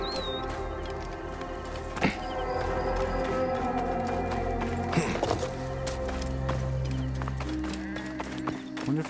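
A horse gallops in Assassin's Creed Odyssey, its quick hoof patter running steadily amid in-game sounds and a brief whinny, with someone talking over it at times.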